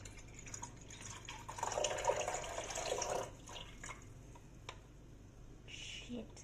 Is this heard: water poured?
yes